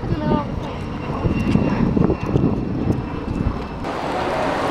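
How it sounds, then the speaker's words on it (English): A fixed-wing airplane engine drones in a continuous low roar near the Mall of America, with wind rumble and faint background chatter mixed in throughout. "Airplane."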